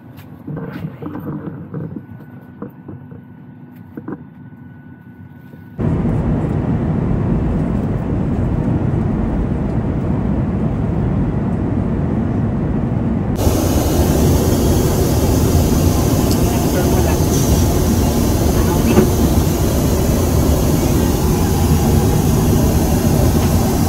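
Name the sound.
airplane in flight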